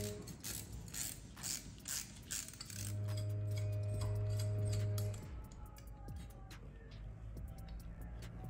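A hand ratchet working a 15 mm bolt off a bracket on a 6th-gen Camaro during a long-tube header install, quick clicking bursts with a short steady whir in the middle, close and moderately loud.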